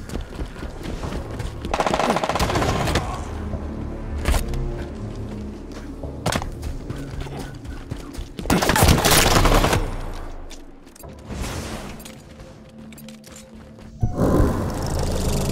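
A rifle fires during a Halo 5 match, with loud bursts of rapid gunfire and heavier impacts over continuous game sound, the shots coming in separate volleys.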